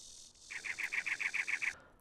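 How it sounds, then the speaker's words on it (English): In a small desert-jungle tree area of a Unity tank game, ambient bird calls chirp in a quick run of about nine repeated notes over a faint, steady high cricket trill, all quiet. "this mini little tree desert jungle area with some crickets and bird sounds"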